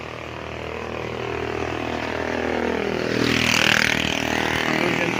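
A motorcycle engine passes near a roadside farm lot in Pila, Laguna, a loud buzzing motor that grows louder and peaks toward the middle before easing slightly.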